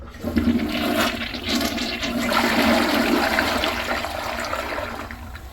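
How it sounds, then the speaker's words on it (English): Press-and-release flush of a third-generation Gerber Maxwell toilet, a loud, steady rushing of water that swells and slowly tapers over several seconds, heard up close with no talking. "On a press and release flush, it doesn't really cover too much"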